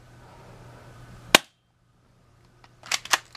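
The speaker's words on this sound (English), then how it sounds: "Pretty quick little spring airsoft gun. Let's take a few more shots." A quick spring airsoft gun fires one sharp, loud snap, then after a short silence two or three more snapping shots in quick succession.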